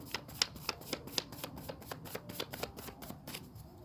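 Tarot cards are shuffled by hand in a quick run of crisp, rhythmic riffling slaps, close up and moderately loud, with no voices.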